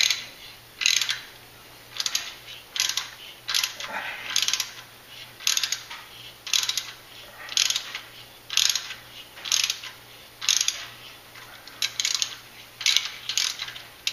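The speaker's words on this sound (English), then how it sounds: "And of course the tap just creates more shavings." A thread tap cuts threads into metal for an EGT probe on a 2005 Duramax LLY. Close, rhythmic ratcheting crunches repeat about fifteen times, each a short burst followed by a brief pause, with no talking.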